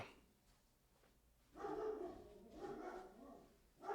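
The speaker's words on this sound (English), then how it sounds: "So if you hear that barking in the background, that is Abigail barking" A dog barks in short bursts nearby, a few sharp yaps clustered together with quiet pauses between, no talking.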